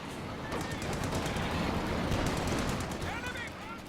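Machine gun fire in Company of Heroes 2 during a tournament match: sustained dense bursts of gunfire with scattered cracks, loud and continuous, with faint voices underneath.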